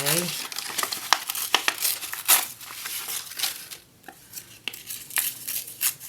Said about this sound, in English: let me tear up some of this. If I tear it this way,